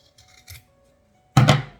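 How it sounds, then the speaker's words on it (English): Scissors snip through a folded bundle of yarn, a single crisp close cut after a few faint rustles of gathering. "Gather it up, fold it in half, and then cut."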